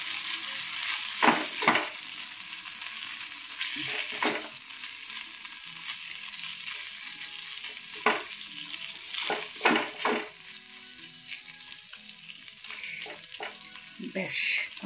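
Shrimp fry in a pan with tomato sauce under a constant crackling sizzle, while a utensil stirs and scrapes now and then.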